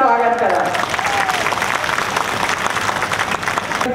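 Large crowd clapping steadily and loudly at a Lok Sabha election rally in Mahasamund, a dense sustained applause filling the whole stretch with a few voices mixed in.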